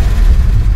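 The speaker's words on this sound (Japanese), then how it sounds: "GTR のマフラーをね持ってきたという排気音聞かせていただきましょう" Low, heavy exhaust rumble from a Nissan Skyline Kenmeri 2000GT in 240K export specification, fitted with a GT-R muffler, running near and loud in one brief, steady burst.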